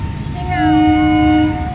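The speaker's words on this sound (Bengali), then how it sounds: "তো দেখো ট্রেনেও যাচ্ছে" A train horn sounds at Princep Ghat in Kolkata, a sustained tonal blast that swells and holds for about a second amid loud outdoor rumble, with no talk over it.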